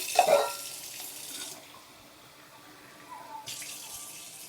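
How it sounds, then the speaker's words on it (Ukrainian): Water runs into a cooking pot on a gas stove in two short bursts, a louder splash at the start and a softer one near the end, with a quiet lull between. "Тепер додаємо сюди водички"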